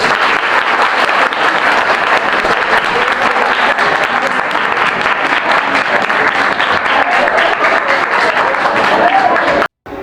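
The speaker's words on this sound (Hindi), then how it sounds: "एक गांधी जी के लिए और एक ताली अपने लिए।" Sustained applause from a large audience, dense steady clapping that holds for nearly ten seconds before cutting off abruptly near the end.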